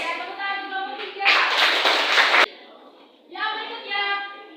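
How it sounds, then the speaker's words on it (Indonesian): Classroom students clap for a presenting group in one loud, dense burst lasting about a second, set between stretches of children's voices talking. "Tepuk tangan untuk kelompok 3."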